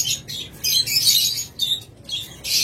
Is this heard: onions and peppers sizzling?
no